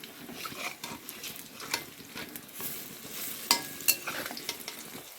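Pea-dal lentil fritters (bora) being turned over in hot frying oil: a continuous crackling sizzle with scraping, stirring knocks and a couple of sharp spatter pops, close up and with no talking.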